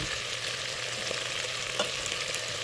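Chopped garlic frying in olive oil crackles with a continuous bright sizzle, close and steady, with occasional soft stirring clicks and no talking.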